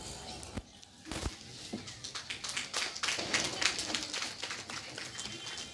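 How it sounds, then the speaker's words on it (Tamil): A church audience at a Christmas Day celebration claps together, a scattered patter that builds into steady applause after a few sharp knocks at the start. "எல்லாரும் நல்ல ஒரு கைத்தட்டல் கொடுக்கலாமே."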